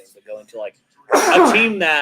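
A single human sneeze bursts out mid-conversation at a lively NFL draft party, loud and close, following a stretch of casual male speech.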